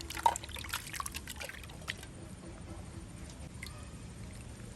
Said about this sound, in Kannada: ಚೆನ್ನಾಗಿ 2-3 ಸತಿ ಇದನ್ನು ನೀರಲ್ಲಿ ತೊಳಿಬೇಕು